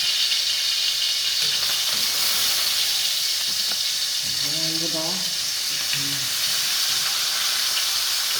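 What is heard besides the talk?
dried fish (daing) frying in oil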